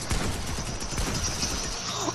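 Sustained Fortnite gunfire: a continuous, loud rattle of rapid shots runs without pause through the short stretch, dense and crackling from start to finish.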